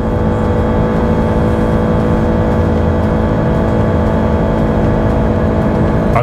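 A Honda Civic EX in Sport mode accelerates to about 2000 rpm, a loud, steady engine drone heard from inside the car, holding an even hum with no talking over it.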